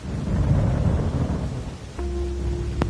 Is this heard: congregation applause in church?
no